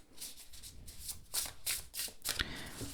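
A tarot deck is shuffled by hand nearby in a series of quick, crisp riffling bursts about every half second, with no talk over it.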